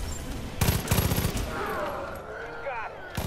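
Gunfire in Far Cry 5: two loud, close volleys of rapid shots in quick succession, then a pause filled with game sounds and a tonal whine, and another sharp burst right at the end.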